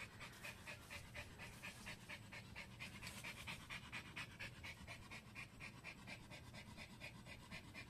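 A tired dog pants rapidly and steadily, a close, rhythmic breathing that runs the whole time without talk.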